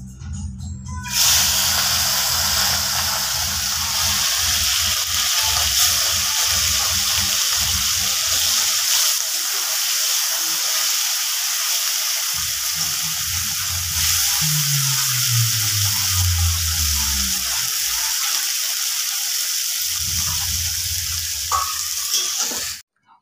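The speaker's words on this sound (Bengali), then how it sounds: "মাছগুলো এখন আমি তেলে দিয়ে নিচ্ছি।" Mourola fish sizzle and crackle steadily in hot oil in a kadai, a dense continuous hiss lasting the whole stretch, with low clattering and scraping underneath in places and no voices.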